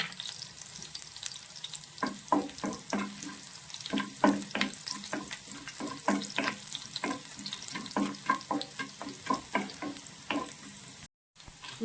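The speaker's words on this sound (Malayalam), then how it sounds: "നമുക്ക് ചെറിയുള്ളി ചെറുതായിട്ട് അരിഞ്ഞത് ഇട്ട് കൊടുക്കാം." Finely chopped shallots frying in a pan, with a steady sizzle and a quick run of scraping stirs, close up with no voices.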